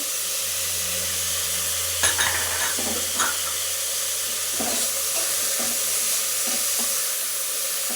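Carrots and beans fry with a constant hiss in a hot pan as a spatula stirs them, with several distinct scraping knocks in the middle and a few softer ones later.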